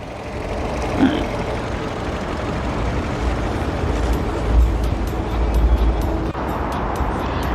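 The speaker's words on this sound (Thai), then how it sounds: "เครื่องเดิมๆเงียบๆนะคะ" A 2018 MG ZS with a 1.5-litre engine runs at idle, giving a steady, even hum close by, with a few slightly louder swells near the end and no talking.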